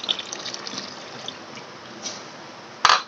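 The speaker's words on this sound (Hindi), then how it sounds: "इसमें डालेंगे अब कस्टर्ड वाली सॉस, जो पानी में मैंने मिक्स किया हुआ था कस्टर्ड" Custard powder mixed in water is poured into hot milk while making lab-e-shireen, giving a soft, steady liquid trickle with a brief splashy burst near the end.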